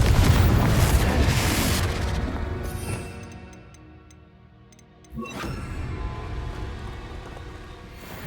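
A Confringo blasting spell in Hogwarts Legacy: a loud explosive boom that rumbles and fades over a few seconds, a short quiet with faint ticks, then a second sharp blast with a sustained rumble.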